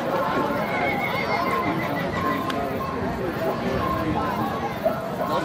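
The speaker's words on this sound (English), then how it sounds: "Roll to our horses here next." A horse neighs and whinnies at the 2021 Motley/Dickens Old Settlers Rodeo bronc riding event, heard up close over a constant background of voices and crowd babble, with a faint hoof clatter.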